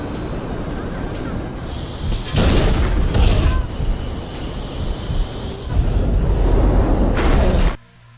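A loud, sustained roaring blast of an airplane exploding on a short runway rumbles and booms for several seconds alongside a high whining tone, then cuts off abruptly into near silence.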